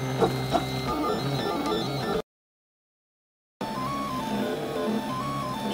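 A 3D printer printing an ABS part with the nozzle at 235 degrees and bed at 60 degrees gives off steady stepper-motor whines with shifting melodic tones, close and continuous, broken by a short silent gap midway.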